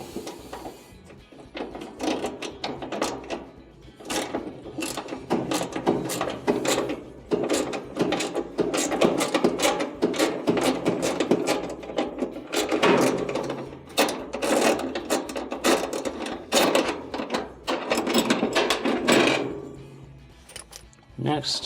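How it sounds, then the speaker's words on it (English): A 3/8-inch bolt is backed out of the idler assembly on a Maytag dryer with a ratcheting tool, giving a dense run of rapid clicking and metallic rattles close up for most of the stretch. "So to start, I'll take out the bolt on the back."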